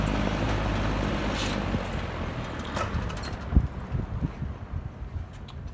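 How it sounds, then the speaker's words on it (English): An old Superlectric box fan with missing grill slats winds down, its steady whooshing drone fading and thinning over several seconds, with a few soft knocks near the end, close by. "Spin down."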